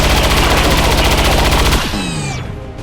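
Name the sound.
elite gunner gunfire in video game XCOM 2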